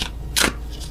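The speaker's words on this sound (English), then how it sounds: "I am awful at attempting to shuffle these." A quick riffle of tarot cards being shuffled, one short crisp burst with faint shuffling before and after, close by.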